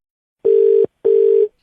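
Telephone line tone after a call is hung up: two loud, steady beeps of equal pitch, each lasting about half a second with a short gap between them, heard alone without talk.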